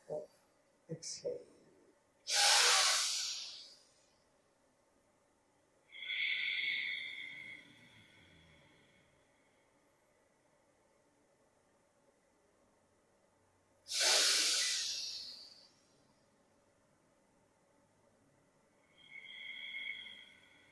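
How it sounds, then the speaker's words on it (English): Slow, breathy exhalations from yoga breathing for seniors, with a hoarse, snore-like rasp. Two long, loud breaths stand out and two softer ones follow, separated by quiet pauses. "So that will produce some special sound, like snoring sound."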